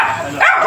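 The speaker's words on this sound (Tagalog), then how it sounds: "May aso din." A dog under a bridge where a homeless family sleeps gives a short, close bark or yelp with a rising whine, loud and brief, with no talk over it.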